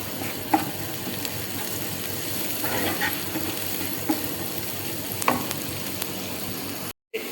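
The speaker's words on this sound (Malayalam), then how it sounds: "ഉള്ളി ഒന്ന് ബ്രൗൺ ആയി കിട്ടാൻ വേണ്ടി കേട്ടോ" Onions sauté in a pan for chicken pasta, giving a steady close sizzle and frying hiss with a few light stirring clinks, and no voices over it.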